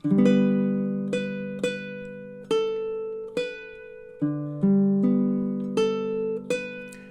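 Plucked baritone ukulele notes and chords ring out one after another at a slow, steady pace, each note sustaining and fading, clear and close.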